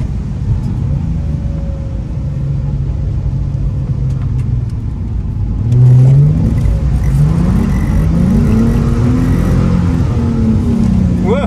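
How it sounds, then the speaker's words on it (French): A drift car running semi-slick tyres holds a low, rumbling engine drone that swells and revs up partway through, heard close from inside the car with voices over it. "L'embrayage, t'entends le bruit de l'embrayage mon gars?"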